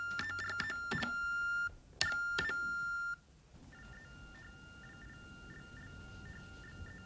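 A telephone device for deaf users sends electronic tones down an ordinary phone line: two bursts of steady high beeping tones broken by a pause, then a softer stream of rapid pulsing beeps that repeats. No speech.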